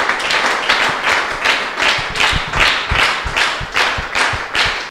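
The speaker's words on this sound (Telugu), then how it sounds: "గట్టిగా చప్పట్లతో అభినందించుదాం." Audience clapping at a gospel talk: close, loud, rhythmic clapping in even beats about twice per second, sustained for the whole stretch and unaccompanied.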